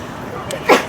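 A single short sneeze from a person during a dog training session indoors, sharp and close, arriving after a moment of quiet room tone.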